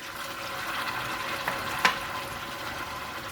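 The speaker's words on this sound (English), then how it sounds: "I'm going to add in just a little bit of water" Char siu pork sizzles steadily in a frying pan, and a splash of water briefly intensifies the hiss, with two short bursts in the middle.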